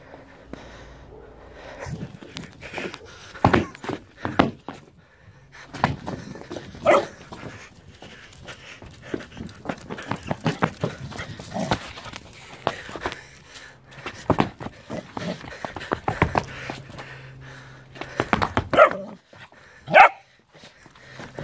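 A 14-week-old golden retriever puppy yips, barks and whimpers in short, scattered bursts at night, close by, with a person's voice calling out between the sounds.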